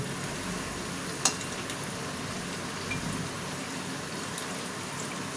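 Veg bread chop frying in a pan over a medium flame, a steady soft sizzle running throughout with a couple of faint clicks, no talking.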